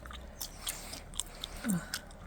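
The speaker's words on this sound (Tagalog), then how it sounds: "lagi siyang ngumunguya ng gum" A man chews gum close to the microphone, soft wet smacking and clicking bursts coming irregularly over quiet background.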